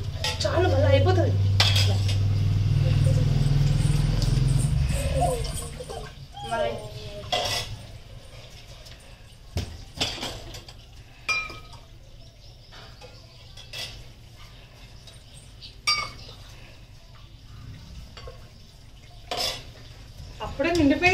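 A spoon scooping laddu into a glass, with repeated clinks and scrapes of metal on glass after a loud rumbling opening, accompanied by intermittent talking.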